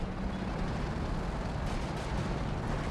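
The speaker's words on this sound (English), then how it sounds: "That's the assault artillery." Assault artillery barrage in the real-time strategy game Company of Heroes 2: a dense, continuous roar of overlapping blasts and rumbling, loud and steady throughout with no voices.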